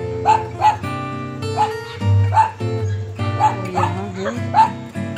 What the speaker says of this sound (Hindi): ढेर सारे कुत्ते